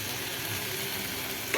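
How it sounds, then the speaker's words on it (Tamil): Coconut is stirred into a pan of frying banana flower poriyal, giving a soft, steady sizzle with faint scraping for a brief moment, no voices. "தேங்காய் போட்டு நல்லா கலக்கியாச்சுங்க"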